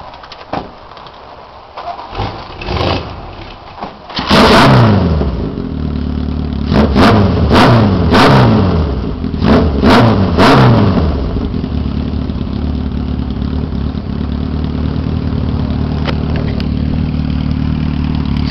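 An engine cranks and fires into a loud, rough roar, revs sharply several times, then settles into a steady idle, heard close up.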